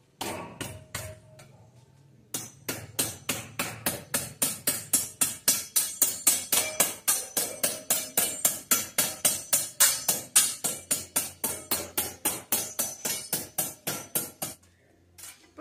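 A small pointed spatula taps wet mortar on a wall to make a stone texture. A few light taps come first, then a long run of fast, steady, close knocks.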